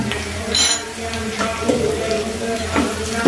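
Mixed vegetables frying in a pan with turmeric, chili powder and salt, a steady close sizzle with occasional stirring scrapes and clinks, no one talking.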